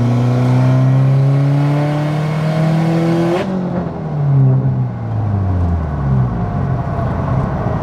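A 400 WHP E85-fuelled Subaru STI engine accelerates hard, its pitch climbing through a gear, then a brief shift break and another rising pull, loud and close from inside the car.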